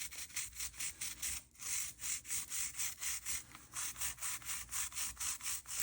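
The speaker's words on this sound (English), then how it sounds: "get your filter cleaner ring, put it around here, and give this filter right here a good scrub" A filter cleaner ring scrubs the filter of a Dyson Airwrap with quick back-and-forth rasping strokes, about three per second, in an even rhythm, close and moderately loud with no talking.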